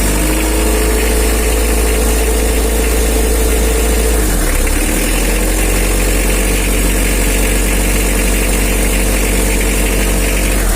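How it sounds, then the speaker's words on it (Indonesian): Mitsubishi L300 engine idling roughly before a valve tune-up, a loud, steady, close-up mechanical drone with a deep low rumble and vibration, holding constant for about ten seconds with a brief dip in tone midway. "bunyi mesin sebelum disetel"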